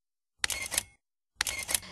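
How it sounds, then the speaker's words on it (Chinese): Two sharp clicks of a single-lens reflex camera shutter, spaced about a second apart, close and crisp with silence between them. "每按一下快门或是每一张影像镜头，志工尽可能不错过"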